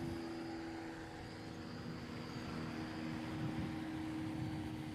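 A STOL airplane circling around at a Rocky Mountain short-takeoff-and-landing practice, its propeller engine giving a steady, distant drone with no voices.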